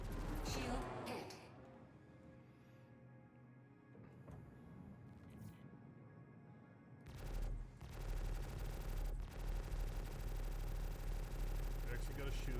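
Gunfire strikes a small ship's shield in the space game Star Citizen: sparse impacts at first, then a loud, sustained, rattling barrage of rapid shots that runs to the end.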